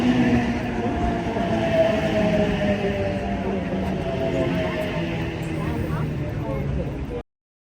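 Onboard a passenger train from Wollongong to Sydney, a loud, continuous rumble of wheels and carriage holds steady for about seven seconds with a faint murmur over it, then cuts off abruptly.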